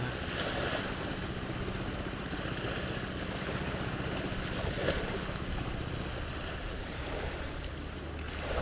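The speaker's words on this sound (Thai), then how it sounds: "จะมีเรือเข้ามา" A boat approaches near the shore of Koh Wiang island in Pathio, Chumphon, heard as a steady engine rumble under wind and surf. The noise stays loud and continuous throughout, with no talking.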